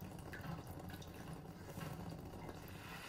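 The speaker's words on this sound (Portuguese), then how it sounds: "agora vou deixar ferver" Chicken stock sauce in a pan coming up to a boil, with a faint, steady bubbling and simmering hiss throughout and no talking.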